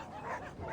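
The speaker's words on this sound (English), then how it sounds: "Outside, a chorus of barking erupts." Several dogs bark and yip together in a brief, dense burst, close and fairly loud, with no talk over it.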